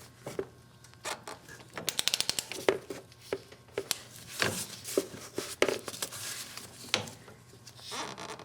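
Ratchet with a 17mm socket snugging the banjo bolt on a Honda Accord fuel filter, quick bursts of clicking with pauses between, close and quiet.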